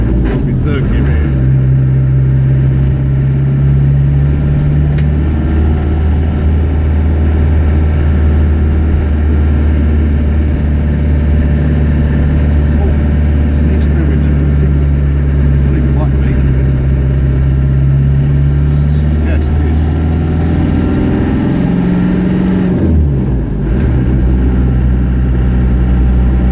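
A 1990 Range Rover engine labors in low gear on a cold drive, a loud, continuous low drone that bobs and shifts pitch as the gears drop.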